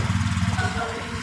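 A motorcycle engine idles and chugs with a steady low throb while the bike is rolled backward out of a tight spot, close up, with a voice speaking over it.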